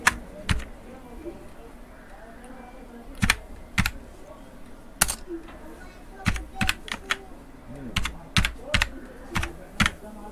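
Typing on a computer keyboard, bursts of crisp close key clicks, some single and some in quick runs, with quiet pauses and someone talking faintly in between.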